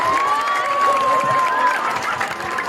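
A festival crowd at a costume pageant claps and cheers in a dense, lively burst, with a whistle or high voice rising over the noise.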